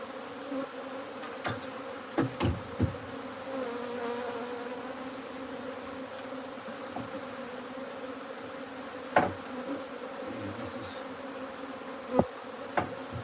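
Honey bees from a wild hive being transferred into a new hive box hum in a steady, low, continuous buzz, with a few sharp knocks and taps breaking through now and then.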